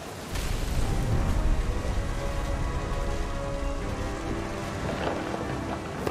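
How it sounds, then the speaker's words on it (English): Heavy rain patters on surfaces during a storm in the video game What Remains of Edith Finch, a steady close wash with low rumbling thunder beneath. "Thunder sounded much too close and full of angry power."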